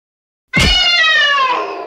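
A single drawn-out meow imitated by a human voice, a loud cat-like cry with a bright harmonic tone that slides and fades slowly over under two seconds, with no other sound around it.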